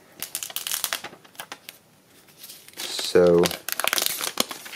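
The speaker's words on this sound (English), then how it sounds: "We're going to go ahead and peel the plastic off here." Plastic shrink wrap is peeled off an iPhone 8 Plus Product Red box, giving repeated close crinkling and crackling in short bursts, with someone speaking briefly between them.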